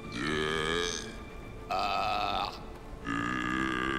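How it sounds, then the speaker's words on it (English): A character in the video game Fable III lets out three long, loud, drawn-out belches in succession with short pauses between them, heard alone without talk. "she'll want to belch then"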